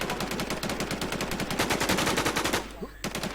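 Rapid bursts of automatic gunfire in a shooting video game, a dense fast rhythm of sharp shots running almost continuously with a short break near the end.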